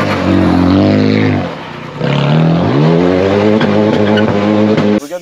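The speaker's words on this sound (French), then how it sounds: "On vous met une vidéo maintenant de tirage de frein à main." Toyota GR Yaris pulling a handbrake turn: a loud, close engine drones and surges, its pitch dipping and climbing again over several seconds before cutting off abruptly near the end.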